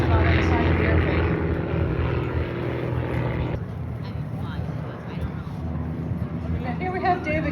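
A Navion propeller airplane roars steadily at an air show, its droning engine loud and close, while a voice talks over it.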